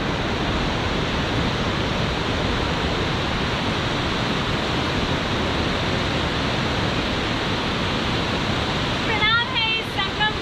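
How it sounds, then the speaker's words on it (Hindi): Loud, steady roar of rushing water at the confluence of the Alaknanda and Pindar rivers at Karnaprayag, a continuous broadband wash heard up close with no break. "पिंडर नदी और अलकनंदा का संगम यहाँ हो रहा है कर्णप्रयाग में"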